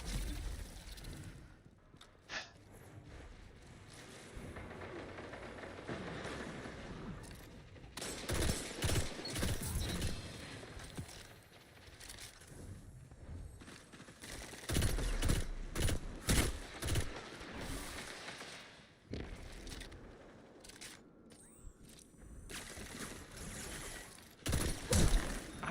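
Faint Destiny 2 Iron Banner gunfire: scattered clusters of shots crack through a quiet game soundscape, bunched in short volleys with calmer stretches between them.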